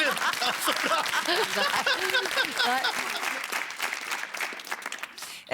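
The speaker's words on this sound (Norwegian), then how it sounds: "Det er latter med applaus." Studio audience at a Norwegian Eurovision preview show breaks into laughter and steady applause, loud and dense at first, then thinning out toward the end with scattered voices mixed in.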